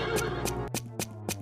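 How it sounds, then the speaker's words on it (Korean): A donkey brays in a short run of loud, harsh honking calls, a sustained rasping cry followed by several rhythmic bursts, close and alone with no talking. "갑자기 당나귀 울음소리가 들리자"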